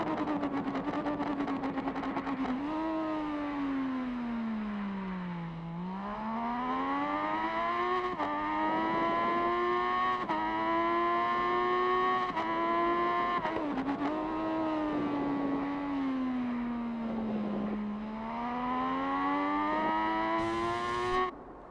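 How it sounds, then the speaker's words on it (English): Onboard sound of a 3-cylinder racing motorcycle lapping the Andalucia circuit in qualifying, its loud engine climbing through gears in long rising sweeps, dropping sharply into braking zones and winding back up again throughout. "let's ride on board with the number 17 so you can hear the might of the 3-cylinder"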